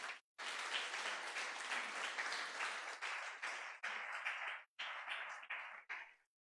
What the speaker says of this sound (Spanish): Le damos un fuerte aplauso a Jesús.